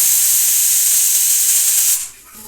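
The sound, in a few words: pressure cooker hissing steam while cooking beef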